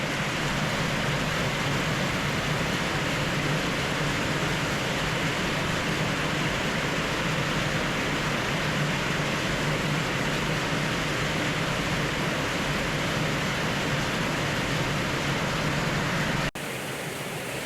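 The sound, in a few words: heavy rain during Thailand's wet season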